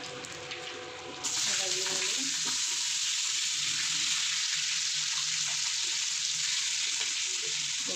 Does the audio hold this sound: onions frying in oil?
yes